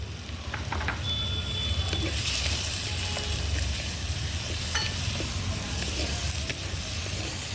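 Onions frying with salt in a pan for turkey berry curry: a steady, loud, close sizzle that runs unbroken with faint stirring scrapes throughout.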